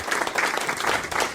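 Guests in a radio studio during a sports show applaud, giving a short, dense burst of close, lively clapping from a small group that stays steady throughout.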